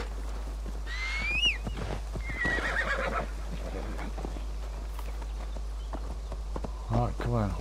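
A horse in Assassin's Creed Valhalla gives two rising-and-falling whinnies early on, followed by a rapid clip-clop of hooves near the end, with game ambience and a voice talking throughout.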